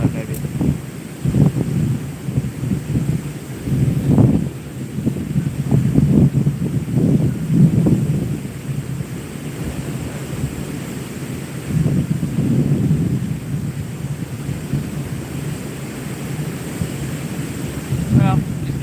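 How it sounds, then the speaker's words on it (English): A strong west or northwest wind buffets the microphone while fishing outdoors, a loud continuous rumbling roar with gusty surges throughout, under occasional faint voices. "That is west wind. Or northwest wind, maybe."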